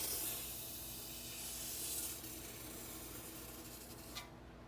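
A steady, faint hiss of spraying liquid through a nozzle, continuous for several seconds, ending with a small click as it stops.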